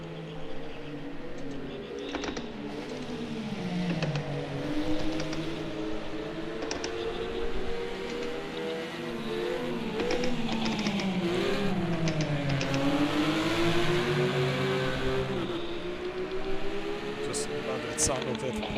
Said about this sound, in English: Sound of that Porsches